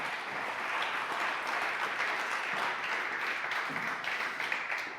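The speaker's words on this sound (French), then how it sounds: "Je crois qu'on peut l'applaudir." Applause from the floor at a Francisport general assembly, a thick sustained patter of many hands clapping at an even level, with no voices over it.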